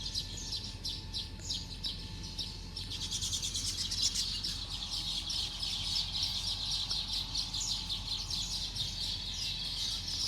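Sparrows and weaver birds chirp busily in a dense, continuous chorus of rapid tweets, moderately close and lively, with no voices heard.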